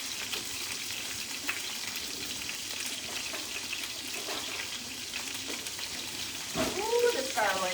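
Garlic, onion and potato sizzle and fry in a pot for Korean chicken noodle soup, a soft steady crackle with light stirring and a brief clatter near the end.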